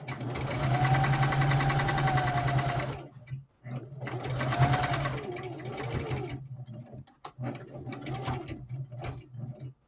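A sewing machine back-stitching a doll quilt made from scrap fabric, running in three fast whirring bursts separated by brief pauses. The motor sits close and steady.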